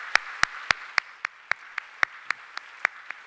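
At a church closing ceremony for a summer short-term mission team, a dozen crisp, evenly spaced claps ring out in a steady rhythm, close and distinct with quiet room tone between them.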